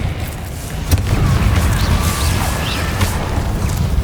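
A Confringo fire spell bursts in Hogwarts Legacy, a sustained rumbling blast with crackling debris and whooshing magic that stays loud and dense for several seconds.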